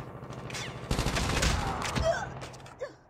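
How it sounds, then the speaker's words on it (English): Gunfire striking the player in a Call of Duty Mobile multiplayer match, a dense fusillade of close, rapid shots in a sustained burst, with a few scattered impacts before and after. "So I just keep getting shot."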